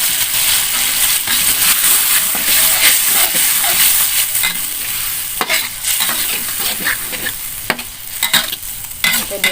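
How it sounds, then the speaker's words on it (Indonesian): A blended paste of red chili, garlic and shallot sizzles and crackles steadily in hot oil in a pan, with a close, bright hiss broken by repeated scraping and clinking stirs of a spatula. "Kita tumis bumbunya ya guys."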